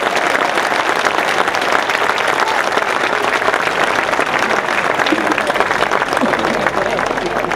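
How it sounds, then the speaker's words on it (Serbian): A festival audience at a folklore concert of groups from six countries gives the Mexican ambassador sustained, even applause that fills the hall from start to finish, with voices faintly mixed in. "Molim vas da ga pozdravimo jednim velikim aplauzom."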